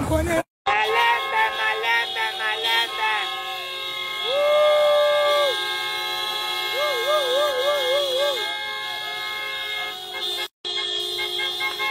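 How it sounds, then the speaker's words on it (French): Car horns honk at a celebration where cars are given as gifts, with several stacked tonal blasts early on, then warbling repeated toots mid-clip under a steady crowd murmur and voices. "Miradi, klaxon un peu."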